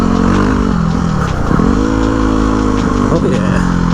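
Dual-sport motorcycles idling and revving at a gathering for a night group ride in Osceola National Forest, a loud, continuous close engine rumble with rising revs, while people talk over it.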